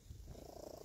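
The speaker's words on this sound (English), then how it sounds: "If you can hear that purring" A cat purrs right up close, a steady low rumbling throb pulsing continuously through the short moment with no talk, recorded outdoors on a farm while tall plants are being earthed up.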